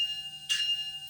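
A single bell strike from a Hornby Locomotion No. 1 model locomotive's ESU DCC sound decoder, a bright metallic ding that rings briefly over a steady electronic hum.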